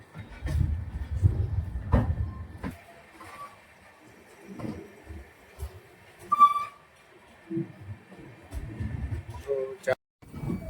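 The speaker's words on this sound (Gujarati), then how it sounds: "મિત્રો હાપામાં 12 વાગે રેલવે સ્ટેશન પર ટ્રેન આવી ગઈ છે" A train pulls into Hapa railway station platform 1 at midnight, heard as low rumbling bursts and clanks with occasional faint whistle-like tones, while voices talk nearby.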